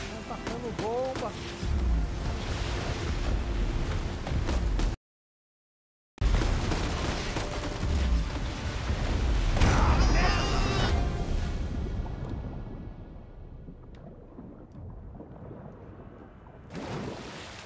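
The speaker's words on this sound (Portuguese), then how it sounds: "Estão tacando bomba!" Bombs burst in Uncharted 4 during a boat chase toward an island: heavy, rumbling explosions roar in loud repeated waves, cut by a brief silent gap, then fade into a softer low rumble.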